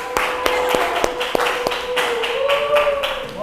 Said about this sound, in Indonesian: Kita coba beri tepuk tangan dulu sama-sama.